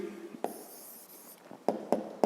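Pencil strokes scratching on paper while working out a fifth-grade maths exercise, a few short sharp scribbles and taps separated by quiet gaps, close and fairly faint.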